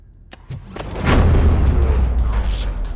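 A gunshot from the RoboCop: Rogue City video game, a sharp burst followed by a loud, sustained rumbling boom and echo.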